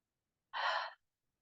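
A single deep breath released as a long, soft sigh through the mouth during a yoga-style balance session, close and clear, lasting under half a second with silence on either side.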